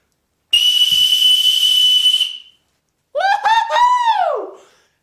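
A short homemade wooden whistle gives a loud, shrill, steady blast lasting about two seconds. After a pause a voice whoops with a rising and falling holler.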